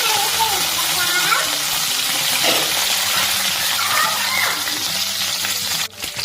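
Fennel seeds and curry leaves spit and crackle in hot oil, a dense, continuous close-up sizzle with stirring scrapes, ending in a brief clatter.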